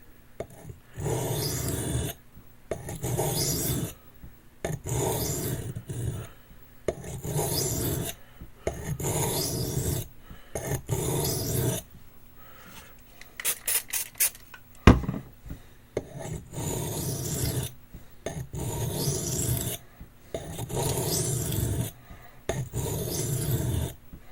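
Rhythmic bursts of scraping as an N690 steel QSP knife blade is sharpened by hand, each stroke close and crisp with brief gaps between passes, plus a sharp tap midway.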